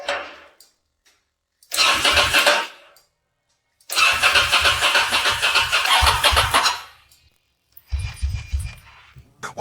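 A restored Ducati motorcycle from a scrap yard cranks in three separate bursts, the longest a rapid pulsing chug of several seconds, with near silence between tries; loud and close.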